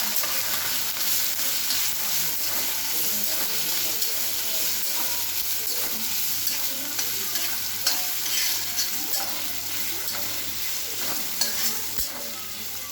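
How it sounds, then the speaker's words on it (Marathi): Green chillies fry in oil with garlic paste, giving a steady, moderate sizzle with small crackles and pops throughout. "मिरची अशी थोडीशी करपूस होईपर्यंत तिला अशी भाजत राहायची तेलात."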